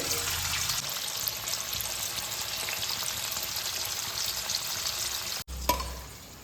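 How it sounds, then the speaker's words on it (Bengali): Cubes of paneer fry lightly with salt in hot oil in a pan, giving a steady close sizzle throughout with a brief clatter near the end. "নুন দিয়ে পনিরগুলোকে হালকা করে ভেজে দেবো"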